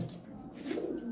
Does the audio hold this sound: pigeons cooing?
yes